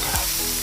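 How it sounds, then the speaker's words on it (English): Seafood for yakisoba is stirred and tossed in a hot pan, giving a close, continuous sizzle with brief scraping strokes at the start and end. "Now this seafood's almost cooked. Just going to move it around, combine this all."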